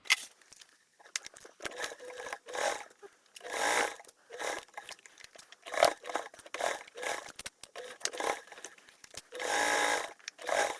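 A sewing machine bastes pockets onto a multi-compartment bag with a 1/8 seam allowance, running in short whirring bursts separated by pauses, heard close up.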